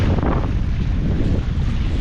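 Strong wind gusts across a microphone at Diana Beach, a loud, continuous low roar with steady buffeting and surf noise blended in, no voices.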